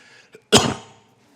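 A single short, sharp cough, close and abrupt, preceded by a faint breath and trailing off quickly into quiet.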